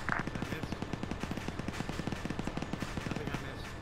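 A machine gun fires in Arma 3 during a WW2 multiplayer battle, a long steady stream of rapid rounds at a moderate distance with fairly quiet, even pacing and faint voices beneath.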